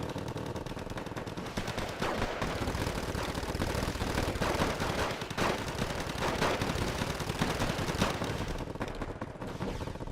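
Sustained automatic gunfire and rattling machine-gun bursts in the Cold War strategy game Wargame Red Dragon, dense and continuous with overlapping shots and distant booms throughout.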